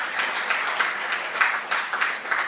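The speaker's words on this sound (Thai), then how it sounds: "ปรบมือให้ทุกท่านด้วย" Audience at a Thai business seminar applauding, a dense, sustained wash of many hands clapping at once, loud and close, steady with slight swells and no voices.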